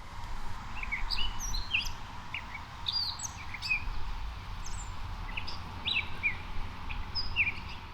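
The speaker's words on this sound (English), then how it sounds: "The Virginia rail is a secretive marsh bird, more often detected by sound than by sight." Several short, sharp Virginia rail calls ring out repeatedly against a quiet, steady marsh background with a faint low hum.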